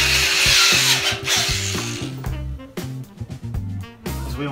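A power drill fitted with a paddle bit bores into trailer wood, whirring loudly up close for a couple of seconds before winding down into stuttering bursts and rough grinding as the bit bites and stops.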